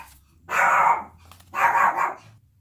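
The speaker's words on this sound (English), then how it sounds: "We had a visitor at the door, and that got the dogs worked up." Dogs bark at a visitor at the door, two loud close barks with a growly tone about a second apart, over a quiet room.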